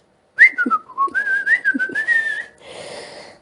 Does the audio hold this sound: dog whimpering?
no